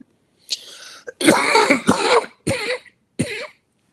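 A lecturer speaking into a microphone during a webinar clears his throat and coughs in several short bursts close to the mic, with brief silences between them.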